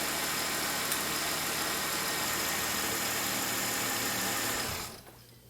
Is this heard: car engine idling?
yes